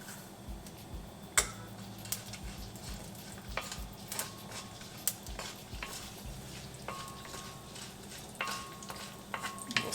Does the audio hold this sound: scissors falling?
no